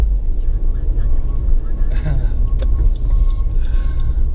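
A tuned 400+ horsepower flex-fuel Subaru WRX engine idles with a steady low rumble, close by, while a person talks over it.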